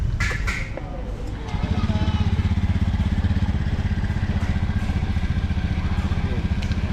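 A motorcycle idles nearby with a steady rumbling putter in a market parking area, running continuously over background crowd noise.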